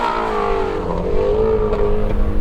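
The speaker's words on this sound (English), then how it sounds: "that is a loud exhaust" A 2019 Ford Mustang Shelby GT350 with sport exhaust revs loudly up close, a deep sustained roar that climbs and holds with no talk over it.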